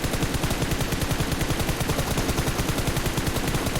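Rapid automatic gunfire in the battle game PUBG Mobile, a loud unbroken stream of evenly spaced shots filling the whole moment up close.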